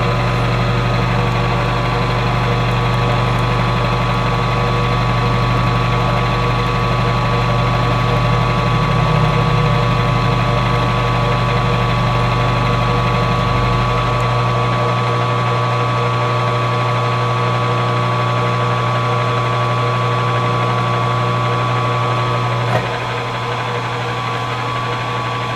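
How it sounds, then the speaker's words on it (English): A milling machine cuts steel with a 1/2 inch high-speed steel two-flute end mill, giving a steady, loud motor hum with tonal whine and low rumble that eases slightly partway through, with no talking. "I'm using a 1/2 inch 2 flute end mill"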